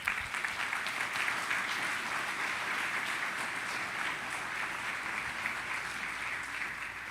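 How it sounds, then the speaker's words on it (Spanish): A church congregation at a Sunday service applauds with sustained, even clapping that is moderately distant and fills the whole stretch without speech. "Denle un gran aplauso a nuestro Rey."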